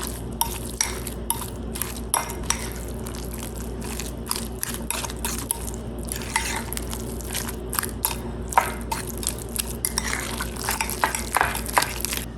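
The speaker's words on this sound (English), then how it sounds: "I have the crab meat and the cream cheese, and I'm just going to mix this all together." Crab meat is worked into cream cheese for a crab rangoon filling, giving soft, sticky stirring and squelching with light utensil scrapes against a bowl. The sounds repeat steadily and close up over a constant background hum, with no talking.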